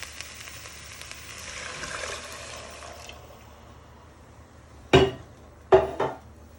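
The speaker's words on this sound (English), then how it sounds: "And you want to give it a good stir" Hot and sour soup stock being stirred in a pot, two distinct sharp clinks of a utensil striking the rim near the end after a stretch of soft sizzling and watery bubbling.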